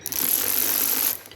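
Inlet manifold bolts on a BMW Mini Cooper D are nipped up with a ratchet tool, giving one loud, close mechanical whirr that runs steadily for about a second and then stops.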